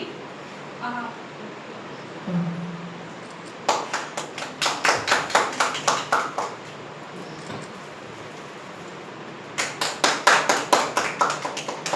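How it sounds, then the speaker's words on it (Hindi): Audience at an award ceremony applauding as a guest is welcomed: two bursts of rhythmic clapping, the first steady and prolonged, the second after a pause, with faint voices in the room between them. "मैं चाहूंगी सब स्वागत करें उनका तालियों से"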